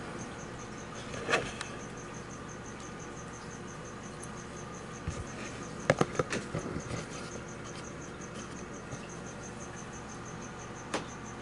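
Feeder crickets for pet geckos, a steady high-pitched chirping drone running throughout, with faint scattered scuffs and taps of handling mixed in and no talking.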